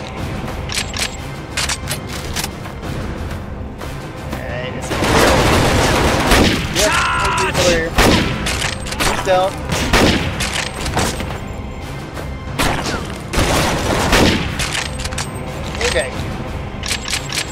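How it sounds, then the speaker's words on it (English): Gunfire in the first-person shooter NecroVisioN crackles in repeated sharp bursts and booms over a dense game soundscape, loud and continuous, with players talking over it. "Is that a gunshot? Yeah, somebody is shooting over here."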